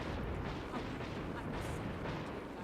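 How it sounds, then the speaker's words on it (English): Cannon fire pounds into a room of the Ascalonian Catacombs dungeon in Guild Wars 2, a continuous loud rumble of overlapping blasts and explosions with no clear gaps. "You have like cannon fire firing into the middle of the room."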